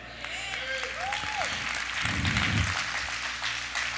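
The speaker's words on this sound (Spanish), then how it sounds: "el Padre es el que se merece un aplauso." A church congregation offers applause to God during a sermon, a short swell of clapping in a reverberant hall with murmuring voices and a brief low rumble partway through.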